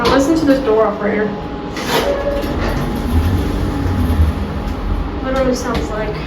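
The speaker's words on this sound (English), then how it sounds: "Now listen to this door operator." A Schindler 330A hydraulic elevator door operator runs with a steady mechanical rumble and hum, loud and close inside the cab, while a person talks over it.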